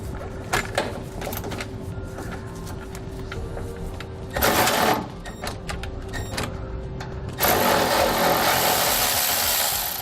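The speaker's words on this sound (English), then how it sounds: "we'll hold the nut with the wrench while we loosen up the bolt on the bottom" Metal clicks and ratchety scrapes from a 15mm wrench loosening a bolt on the frame of a 2016 Coachmen Mirada RV, with two bursts of louder hissy noise mixed in.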